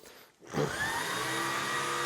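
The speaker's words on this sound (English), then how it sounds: "let me just show you how it vacuums around the room" A Shark Stratos IZ862H cordless stick vacuum starts up after a brief quiet moment and then runs at a steady, loud motor whine with an airy rush, close by and with no voices.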